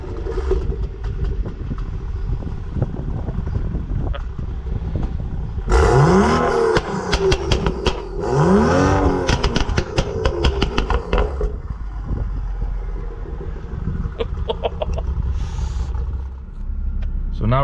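A 430 hp BMW M135i launches and accelerates hard on city streets. The engine surges loudly in two steep revving sweeps with crackling bursts between them, over a rumbling idle, then settles back down.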